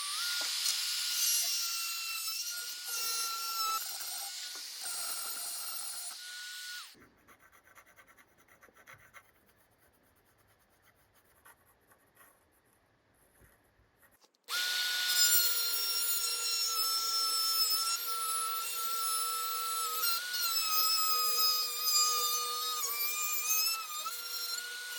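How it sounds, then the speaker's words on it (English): Sawing through a wooden pedal board to cut a window: steady rasping strokes, then a quiet pause midway, then louder sustained cutting with a high-pitched whine, close up with no talking. "I have to cut another window carefully."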